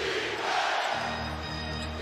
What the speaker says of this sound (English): Crowd back into it big time